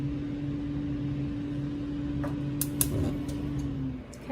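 A kitchen gas stove burner is switched on and set to medium-low heat under a pan of crème brûlée custard. A couple of sharp clicks cut through a steady low appliance hum.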